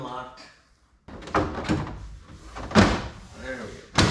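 A manual-lock door on a C10 truck is opened, giving a sequence of metallic clunks and rattles after a brief quiet start, with a sharp bang at the very end.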